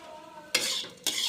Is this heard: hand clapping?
no